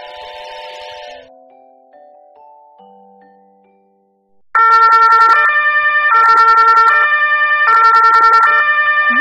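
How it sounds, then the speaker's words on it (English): An ambulance siren wails loudly in repeated cycles of alternating tones, preceded by a brief softer two-tone signal that fades out. "This is ambulance."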